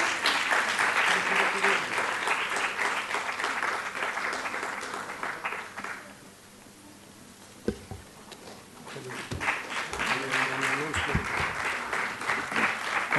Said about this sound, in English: A big round of applause once again.